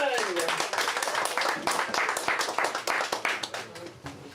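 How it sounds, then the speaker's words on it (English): Audience applause and clapping in a comedy venue welcoming a comedian to the stage, dense rapid claps sustained throughout and fading slightly at the end. "Spread that clap! Welcome to the stage, Dave Chedderton."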